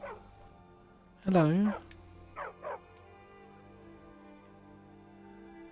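A stray dog in Skyrim lets out a loud bark and then two shorter yips, with quiet pauses between them and a brief spoken greeting.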